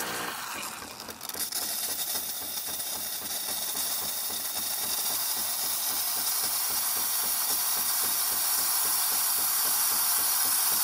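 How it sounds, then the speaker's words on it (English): Steam wand on a Jura Impressa S8 coffee machine, unused for a year, releases a steady, loud hiss that builds after a short sputtering start and holds continuously, with a faint pulsing underneath. "Now we're gonna test the steamer."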